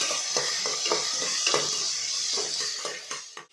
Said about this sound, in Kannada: ಎಲ್ಲ ಸ್ವಲ್ಪ ಫ್ರೈ ಮಾಡಿಕೊಂಡು ಆಮೇಲೆ ಟೊಮೊಟೊ ಹಾಕ್ಕೊಳ್ತಾ ಇದ್ದೀನಿ